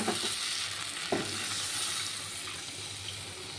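Water poured over potatoes cooking in spice paste for a Bengali fish curry, bringing a broad, steady hiss and bubbling with a single utensil knock early on, close and moderately loud.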